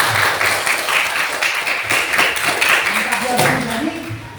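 A classroom gives a student a round of applause, dense clapping from many hands that goes on for several seconds and then tapers, with voices mixed in.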